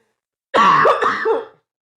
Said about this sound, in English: I just have a cough attack.